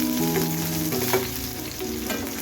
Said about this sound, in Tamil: பொடியாக கட் பண்ணி வச்சுருக்க பச்சை மிளகாய், பூண்டு இது ரெண்டுமே சேர்த்து அந்த எண்ணெயிலேயே வதக்கணும்.